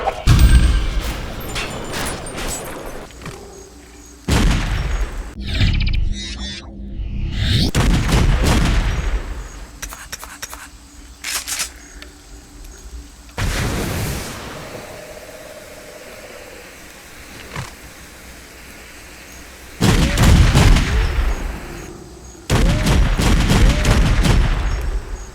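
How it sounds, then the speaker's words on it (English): A steampunk-styled shotgun fires in a first-person shooter game, delivering roughly eight heavy blasts in irregular bursts with short quiet gaps, some followed by mechanical reloading clatter. "This shotgun can be upgraded to fire faster and inflict more damage, each with some goofy steampunk modelling"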